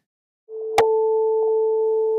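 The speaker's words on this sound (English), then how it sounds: "Let's go back to our tuning fork." A tuning fork in a lesson on pitch gives a sharp tap, then a pure, steady tone rings on evenly and clearly, with no voice over it.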